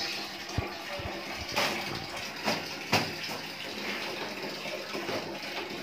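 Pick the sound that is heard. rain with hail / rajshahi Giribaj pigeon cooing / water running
water running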